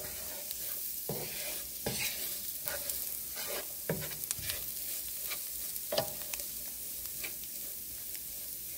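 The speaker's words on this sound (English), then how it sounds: "we take the spices and we cook them down into everything" Spices frying and being stirred in a pan for shakshuka, a steady soft sizzle broken by regular scraping strokes of the spoon, close and moderately quiet with no talking.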